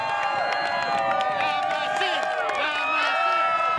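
A large outdoor street-theatre crowd cheers and shouts as Kumo, a giant 20-metre-wide mechanical spider puppet, wakes; a steady roar of many voices with rising whoops fills the scene throughout.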